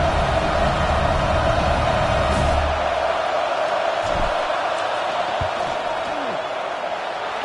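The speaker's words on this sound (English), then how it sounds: "This crowd trying to do its part to get inside the kicker's head." A stadium crowd roars loudly and continuously during a college football field goal attempt, Wisconsin versus Washington, a dense wall of noise that eases slightly toward the end.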